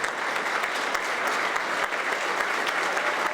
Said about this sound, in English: let's stand up and give every town employee a round of applause